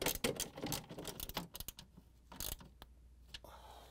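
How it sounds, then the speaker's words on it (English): A half-inch socket wrench tightens bolts on a Whirlpool, KitchenAid or Maytag refrigerator water filter housing, giving close, irregular mechanical clicks and short ratcheting bursts that thin out into quieter taps. "Using the half-inch socket wrench, we're going to tighten them."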